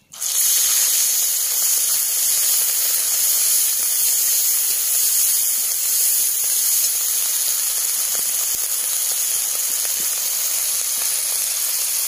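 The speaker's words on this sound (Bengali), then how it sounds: "মাছ ভাজার তেলে এবার পেঁয়াজ বাটা দিয়ে দিলাম।" Onion paste hits hot oil left from frying rohu fish and sizzles loudly and steadily in a village kitchen, a close, dense hiss that bursts in suddenly and holds for about twelve seconds with no voices.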